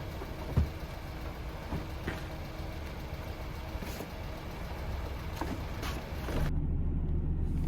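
A Volvo 240 car drives along with a steady low engine hum and road rumble throughout. A few faint clicks and knocks can be heard, and the engine note grows a little louder near the end.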